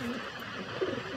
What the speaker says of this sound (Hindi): अच्छे लग रहे हैं कबूतर